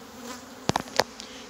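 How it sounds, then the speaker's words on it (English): Honey bees buzz inside a beehive box, a continuous close hum broken by a few sharp clicks and knocks from the hive parts partway through. "There's so many bees in here."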